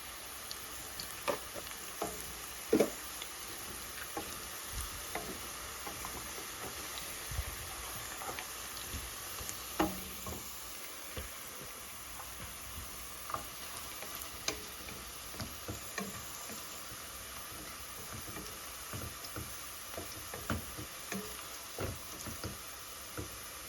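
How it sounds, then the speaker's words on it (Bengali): Oil sizzles steadily with a dense crackle and scattered sharp pops as a spice paste fries, with no voices. "পেস্টটা ভাজা হয়ে যেতেছে।"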